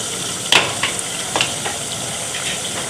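Onions softening in a pan for beef stew, frying with a steady low sizzle and a few brief stirring scrapes, close and alone without any talk.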